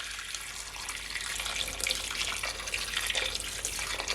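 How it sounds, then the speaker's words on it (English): Water poured from a kettle into a cooking pot, a steady close splashing stream that runs unbroken for several seconds with no talking. "So to my pot, I'm gonna add some water from my kettle."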